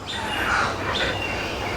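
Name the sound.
birds calling in a bird sanctuary enclosure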